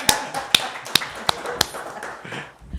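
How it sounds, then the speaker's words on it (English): A handful of sharp, separate claps ring out at a slow, irregular pace during a municipal council meeting, followed by a quieter tail of faint murmuring. "It is worth a clap."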